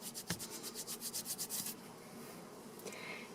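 Wool yarn ends rubbed together by hand to felt a join, giving a quick series of soft, rhythmic rasping strokes up close that stop partway through, leaving a quiet room.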